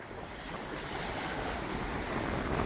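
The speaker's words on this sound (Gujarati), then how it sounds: "સમુદ્રની લહેર આવી રહી છે" Sea waves roll onto the shore at Kuda beach on the Gujarat coast, a steady, moderately faint wash of surf with wind rush and no voices.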